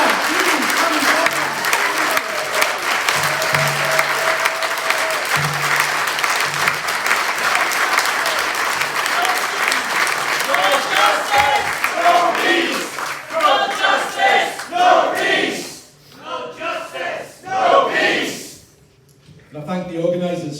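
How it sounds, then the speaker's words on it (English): At a May Day rally in Edinburgh, a crowd applauds and cheers loudly, with the clapping thinning into scattered claps, shouts and voices toward the end. "Huge applause! Huge applause! For the ladies and Amber."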